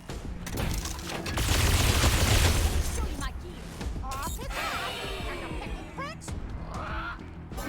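A large in-game explosion in the video game Wasteland 3 rumbles loud and heavy, then fades into scattered combat effects and chirpy sounds.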